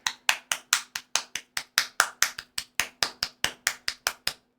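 Hand claps ring out in a steady, quick series of about twenty sharp, close claps, with no talking over them.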